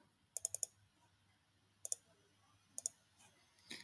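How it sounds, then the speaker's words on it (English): Crisp computer mouse clicks come in quick pairs and small clusters, close and faint against near silence, repeated three times with short gaps between. "Double click on this shape."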